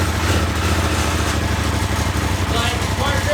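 Polaris RZR Turbo engine running steadily right after starting, a loud, continuous buzzing drone with a fast pulsing rhythm, close and dominating throughout.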